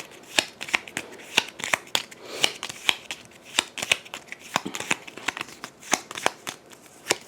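Cards for the Darkest Dungeon board game are shuffled by hand up close, a steady run of crisp riffling flicks and slaps repeating at a brisk, even rhythm.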